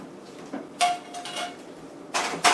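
Cooked wontons being placed into a bowl for wonton soup, heard as a few sharp clinks and knocks of utensils against dishware in a quiet kitchen, one brief ringing tone among them.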